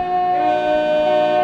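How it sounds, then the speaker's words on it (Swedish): A Class 221 Super Voyager horn in a train simulator game sounds as a loud, steady, sustained tone heard from inside the cab, holding for over a second with no talk. "Börja lyssna på tutan här inifrån."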